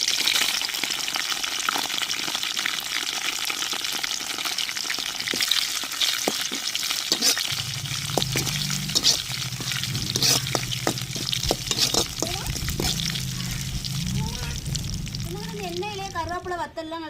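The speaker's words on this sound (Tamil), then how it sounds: "எண்ணெயிலே கருவேப்பிலை வத்தல்லாம் நல்லா பொன்னிறமா வந்துருச்சு." Curry leaves and dried red chillies fry in hot oil with mustard seeds, giving a continuous close sizzle broken by small pops, scrapes and stirring clinks.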